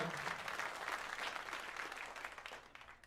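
A crowd at an event bursts into steady, dense applause that carries on for a few seconds before gradually tapering off.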